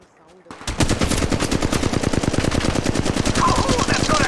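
Sustained automatic gunfire from Apex Legends Mobile, a video game. It bursts in after a quiet half-second and keeps up a rapid, steady rattle of shots, loud and dense, with faint game noise underneath.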